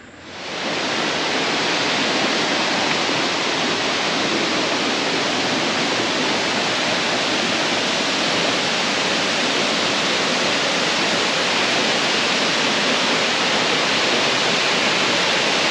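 Near Pakse in southern Laos, a powerful waterfall roars in a loud, continuous broadband rush that swells in over the first second and then holds steady and close, with no voices over it.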